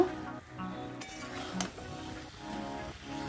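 Spice masala with soybean is sautéed in a pan, with a soft sizzle under repeated scraping and clinking of a spoon against the pan in a loose rhythm, close and fairly quiet.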